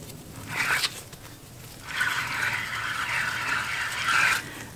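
A dry, gritty grinding rasp from a worn front wheel hub bearing on a Lexus GX 470 turning, a short burst followed by a longer steady scraping stretch, fairly quiet.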